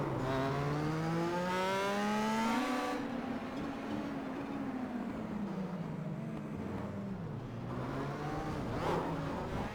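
Star Mazda race car in iRacing at Homestead, engine revving up through gears then holding a steady whining drone with shifting pitch, loud and continuous, no talk.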